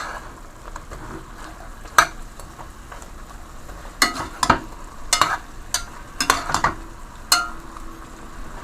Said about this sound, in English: I'm gonna let this fry down